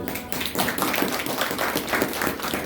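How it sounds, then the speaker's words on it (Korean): A church congregation at a morning service claps together in a short burst of dense, even applause heard from within the room. "박수 한번 해주십시오."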